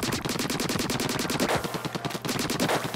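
A basic ink weapon fires continuously in Splatoon 2, a rapid, steady stream of evenly spaced shots running loud and unbroken for the whole stretch.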